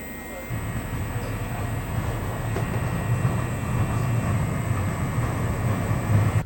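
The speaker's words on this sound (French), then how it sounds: "On teste un nouveau transport en commun en Turquie, cette fois-ci un tram très vintage." Vintage tram running through a city in Turkey, a steady low rumble and rolling clatter with a faint high whine, continuous and fairly close throughout without talk.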